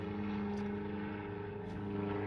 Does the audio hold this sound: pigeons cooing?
no